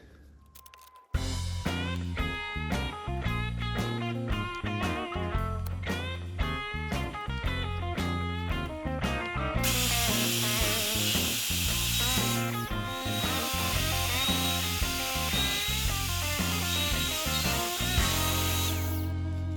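A power drill whirs and grinds continuously through metal, drilling a 9mm hole, with rapid chattering bites, growing harsher and higher-pitched partway through; no talking.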